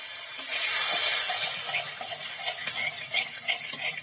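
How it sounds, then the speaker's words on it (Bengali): Water is poured into a pan of well-fried spice paste for a mustard and wild mushroom curry, giving a steady hiss and bubbling at close range, then light stirring clinks and scrapes with no talk. "এবার জল দিয়ে দেব।"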